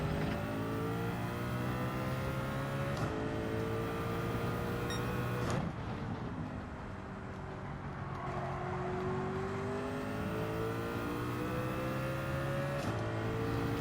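Engine of a race car lapping Sardegna Road Track in Gran Turismo 7, a steady loud whine of revving and gear changes with pitch sweeping up and down through shifts, running continuously with no talk.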